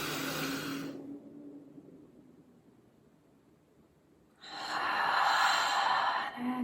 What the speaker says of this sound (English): exhaling through our mouth, letting go